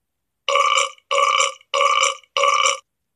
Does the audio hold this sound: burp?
yes